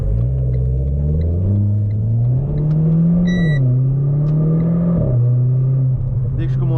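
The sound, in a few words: Renault Clio 4 RS engine revving under hard driving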